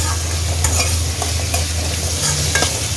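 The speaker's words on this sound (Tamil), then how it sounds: "ஒரு லைட் பொன் நேரமாக வர்ற வரைக்கும் நம்ம வதக்கி விட்டுக்கிறோம்" Onion and garlic sautéing with salt in a pan for a drumstick and brinjal gravy, stirred until lightly golden: a loud, steady sizzle, close up, with faint scrapes of the spoon and no talking.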